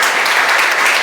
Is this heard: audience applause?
yes